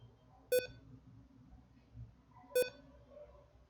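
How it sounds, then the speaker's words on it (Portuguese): Computer beeping in a quiet room: two short, sharp electronic beeps about two seconds apart, clear over a low hum, no talk. "o computador bipando que não para de bipar"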